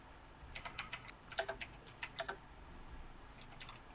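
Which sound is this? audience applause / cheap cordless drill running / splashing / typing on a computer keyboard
typing on a computer keyboard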